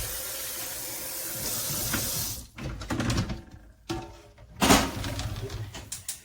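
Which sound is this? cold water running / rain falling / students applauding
cold water running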